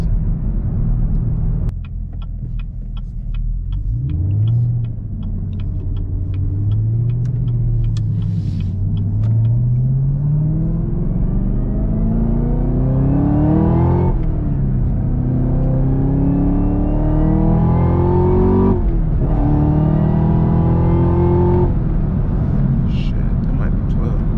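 A Chevrolet Camaro ZL1 accelerates hard along a back road, its engine rising in pitch through repeated pulls with brief drops at gear changes, loud and close from inside the car.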